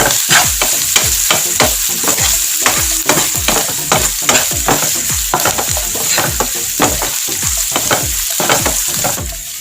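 Rapid, rhythmic spatula strokes scrape through a loud, close sauté of curry leaves and salt for Andhra fish pulusu. Dozens of evenly spaced scrapes run over a continuous sizzle.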